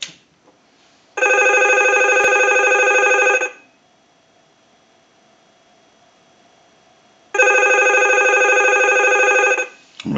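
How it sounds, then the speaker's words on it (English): A Mickey Mouse novelty telephone under repair rings when triggered by a test analyzer: two long, loud bursts of electronic bell ringing separated by several seconds of near silence, close and clear with no talking. "we'll go ahead and ring the unit with the analyzer"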